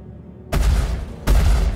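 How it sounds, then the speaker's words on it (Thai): Two heavy blasts of ship-mounted guns in the space game Star Citizen, Alpha 2.5, about three quarters of a second apart, loud and close, each sustaining a dense roar, no voices. "เป็นการยิงปืน"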